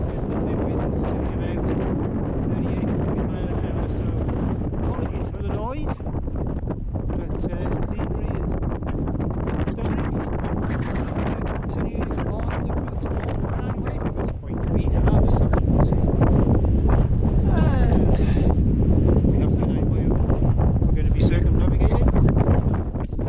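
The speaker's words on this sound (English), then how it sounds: "Been absolutely battered by the wind" Strong wind buffeting the microphone on open Northumberland hills, a loud continuous roar and rumble that gusts even harder partway through, with a voice speaking underneath.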